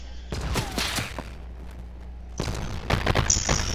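Gunfire in the Fortnite video game, with a quick cluster of sharp shots, a lull, then another burst and a high whine, with faint voices in between.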